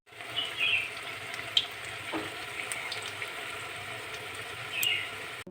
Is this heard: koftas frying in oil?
yes